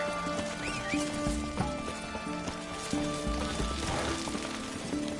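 A horse in The Witcher 3 clip-clops at a steady gallop, hooves thudding close and clear, with a whinny partway through and faint ambient patter behind.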